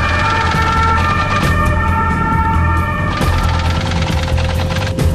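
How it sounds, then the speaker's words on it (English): A quarantine ambulance siren wails loud and close, a steady tonal wail with a brief shift midway, over heavy low engine rumble, with no voices. "Sami Mahali is rushed to hospital in Dortmund in a quarantine ambulance."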